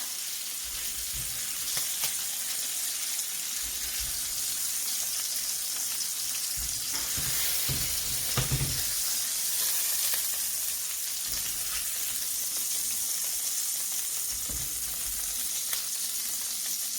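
Oxtail pieces browning in a hot pan for stew give off a steady, fairly loud sizzle that lasts throughout, with occasional clunks and scrapes as the meat is moved about.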